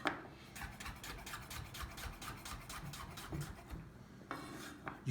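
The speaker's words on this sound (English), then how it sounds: "The pumpkin can now be cut up however you like." A knife slices a pumpkin squash into thin pieces, making a steady series of soft, close rasping strokes with brief pauses and no voices.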